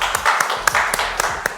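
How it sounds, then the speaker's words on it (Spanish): A studio audience at a UCI TV talk show applauds a departing interview guest with short, sharp, fairly loud claps. A voice talks over the clapping throughout the brief burst. "Fuertes palmas, por favor."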